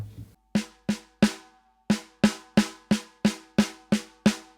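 An unprocessed snare drum sample from a hardcore mix, struck eleven times in a steady rhythm after a short pause, each hit sharp and loud with a ringing tone and a decaying tail, heard alone.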